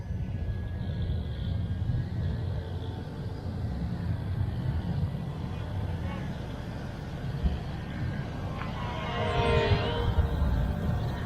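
A WLtoys XK X450 RC fixed-wing airplane flies in calm outdoor air, its motor whine faint beneath broad background noise and rising briefly as it climbs near the end.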